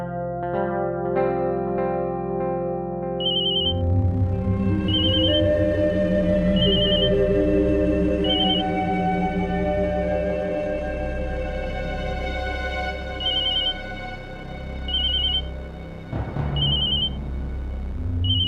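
A mobile phone ringtone plays a repeating electronic melody, loud and close, looping without pause over a sustained musical backdrop.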